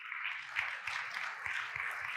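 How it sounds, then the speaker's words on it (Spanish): A church congregation applauding together, a steady wash of clapping with a loose rhythmic pulse, moderately loud and filling the room for a couple of seconds. "Da un aplauso al Señor por eso."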